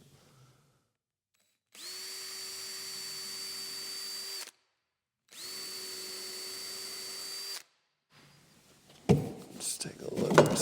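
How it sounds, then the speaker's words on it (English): A power drill pre-drills holes in a wooden mantel, running in two steady whirring bursts of a few seconds each with a short pause between them, followed by handling clatter and a voice. "we'll pre-drill some holes"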